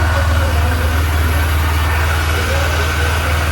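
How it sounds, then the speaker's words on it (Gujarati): A motorcycle engine runs at a steady, loud idle right after starting, with a constant low rumble and no pauses or other sounds over it. "બાઇક કોલ સ્ટાર્ટ થઈ જાય છે."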